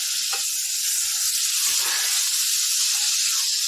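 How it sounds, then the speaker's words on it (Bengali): Cauliflower and soybean pieces hit hot oil with spices, giving a loud, steady, close-up sizzle with a few faint clinks underneath. "মশলাটা ফুটে বা তেলটা ফিরে যাচ্ছে এর মধ্যে দিয়ে দেবো সবজিগুলো"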